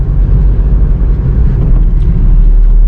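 A car speeds through an intersection. It makes a loud, close, continuous low rumble and engine roar that holds steady for a few seconds.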